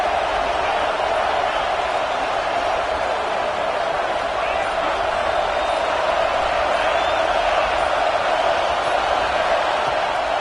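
A football stadium crowd at a Notre Dame vs Duke game roars steadily in the second half, a loud, constant wall of cheering and noise that continues without a break.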